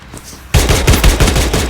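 Loud automatic gunfire erupts after a short quiet moment in a shooting video game, a rapid burst of close, punchy shots that keeps going to the end.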